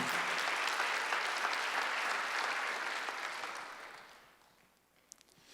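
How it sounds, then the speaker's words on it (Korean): A church congregation applauding during a Sunday service, a full steady burst of clapping that tapers off and dies away near the end, leaving a few faint isolated sounds. "박수 한번 해주세요."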